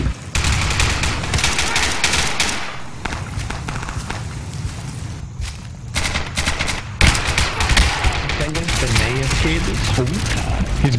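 Rapid automatic gunfire and single shots crack loudly in a brutal co-op match of the video game Insurgency on the Sinjar map, in dense bursts with short gaps and shouting voices mixed in.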